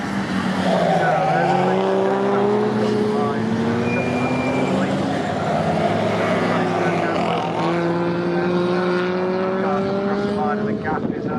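Vintage pre-1963 race cars, a Lola among them, scream past at Snetterton, with engines rising and falling in pitch as they pass. A commentator talks over the racing.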